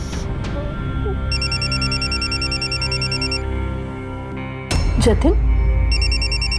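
A phone rings with a repeating electronic trill, pausing and starting again, while people talk nearby over a low background hum.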